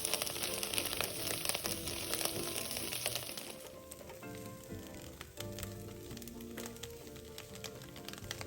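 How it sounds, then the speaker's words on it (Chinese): Chinese sausage stir-fried in a wok, producing a continuous bright sizzle with scattered clatter of stirring; the frying texture shifts partway through and carries on steadily. "拌炒至腊肠溢出香气后"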